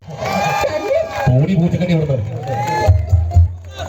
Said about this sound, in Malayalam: നല്ലൊരു കയ്യടി എല്ലാവരും ചേർന്ന് എനിക്ക് തരിക